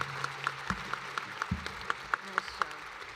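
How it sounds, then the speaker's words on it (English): An audience at a state invention awards ceremony claps, a few sparse, evenly spaced claps standing out over light crowd murmur and a voice. "Another round of applause."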